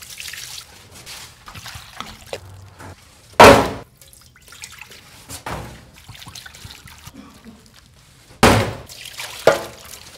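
Water pours and splashes onto cheese in a few short, loud bursts while making halawet al jibn, with quieter trickling and faint handling sounds between them.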